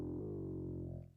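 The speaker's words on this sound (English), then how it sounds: "So here's Animoog, and that's with FoldR." Animoog synth run through the FoldR wavefolder distortion plugin, a sustained buzzy harmonic tone holding steadily for about a second before fading out, loud and alone.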